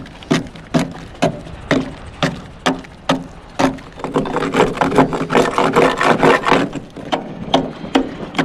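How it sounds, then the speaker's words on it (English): Rhythmic sharp scraping strikes of a chipping hammer on the hull of a 50-foot navy dive boat, steady repeated blows, then a denser burst of rapid scraping midway, close and loud. "Chipping hammer is the gem."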